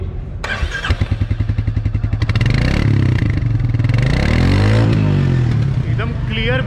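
A Royal Enfield Meteor 350 motorcycle cranks and fires up, then settles into a loud, close, steady thumping idle with an even rhythmic beat that lasts to the end.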